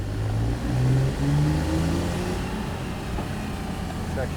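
A Porsche 911 Targa 4S (997.2) engine revs up in second gear after a downshift from fourth, a loud, rising engine note heard from inside the car that swells and then settles into a steady drone.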